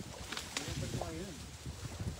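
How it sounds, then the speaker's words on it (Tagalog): Strong wind roars steadily outdoors during net fishing, buffeting the microphone with low rumbling gusts while someone talks over it. "Malakas talaga hangin dito"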